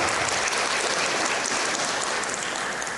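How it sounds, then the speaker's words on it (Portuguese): Steady, dense applause from an audience at a law lecture, honouring a minister named an honorary citizen of Espírito Santo; the clapping holds even and continuous throughout, with no speech over it. "Uma salva de palmas ao novo capixaba."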